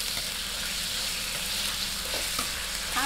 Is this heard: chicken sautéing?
yes